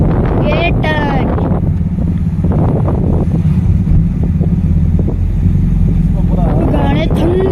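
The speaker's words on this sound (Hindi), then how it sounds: "ठंडी हवा चल रही है" Cold wind buffets the microphone on a winding hill road, a loud steady rumble and roar throughout, with voices talking briefly at the start and end.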